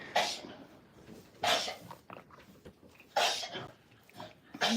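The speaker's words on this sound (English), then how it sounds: "why are you coughing?" Several short, harsh coughs come in spaced bursts from a goat nearby, separated by quiet breathing.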